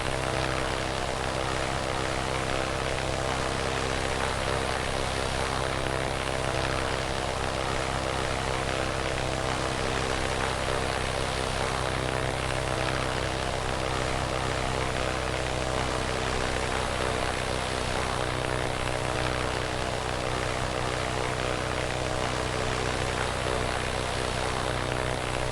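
Continuous droning propeller engine of a P-26A Peashooter fighter plane in the World War II flight game Wings of Heroes, loud and steady throughout with a dense buzzing hum and no speech.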